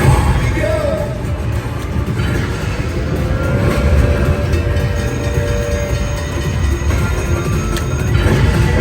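A slot machine game plays a loud, steady train sound effect: rumbling rail noise and clickety clatter that runs continuously, with faint electronic tones riding over it.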